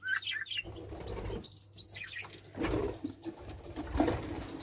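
Pet budgies and red mosaic canaries chirping nearby in an indoor cage, a mix of quick high tweets and short warbles with soft low cooing sounds underneath.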